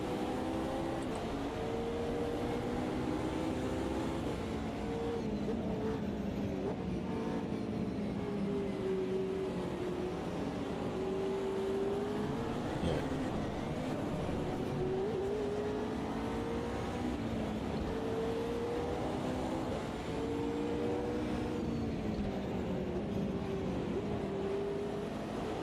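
An American muscle car engine in the Automobilista 2 racing sim drones steadily, its pitch wavering up and down with throttle and gear changes for the whole stretch, loud and continuous with no voices.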